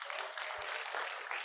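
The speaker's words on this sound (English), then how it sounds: "let's give them another hand clap" Audience at a business leaders summit gives a round of hand clapping, a dense, even patter of many hands heard a little distant and fairly faint.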